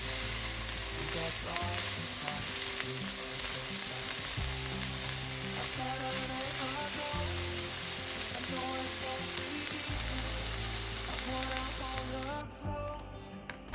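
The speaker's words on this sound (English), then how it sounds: "Mix well and fry." Ground meat fries in a pan with a loud, continuous close sizzle and occasional stirring scrapes, cutting off near the end.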